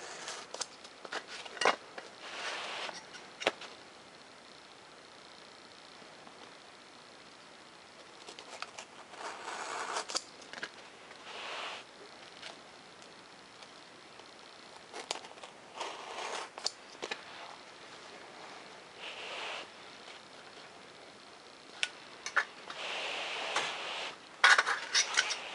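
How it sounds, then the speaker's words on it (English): A razor knife slicing through paper model airplane plans laid on the back of a small throw carpet, producing scattered short scraping cuts and light taps, close and quiet with no talking. "you're going to want to put your razor knife at a pretty good angle when you cut into these"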